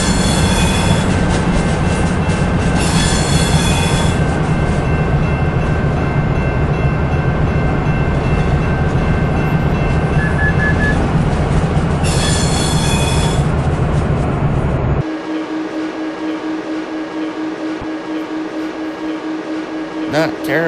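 A Virgin Pendolino 390 train in a Train Sim game slows to a stop at a station in southern England, heard from inside the cab. A loud rumbling run carries wheel squeal, then drops abruptly to a quieter cab hum.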